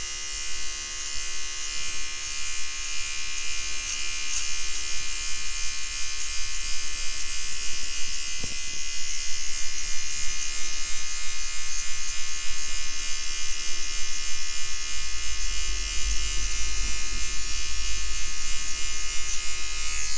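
A Microtouch Solo electric razor with its longest guard attached trims a fade on the side of the head, giving a close, continuous buzzing hum that runs steadily throughout with slight changes in pitch.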